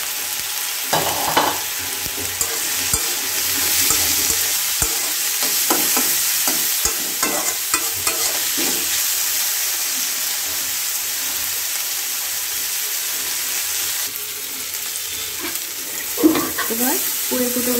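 Chopped onions and green chillies sizzle and fry in a pan while a spatula stirs and scrapes them in bursts, a steady close hiss with intermittent clatter throughout, no talking.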